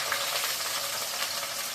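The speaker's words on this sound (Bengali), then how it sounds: "তো প্রথমে আমি আলু পেঁয়াজগুলো তেলে দিয়ে দিই" Potatoes and onions sizzle steadily in hot oil with a bay leaf, a dense, even crackle that fills the whole stretch up close with no voices.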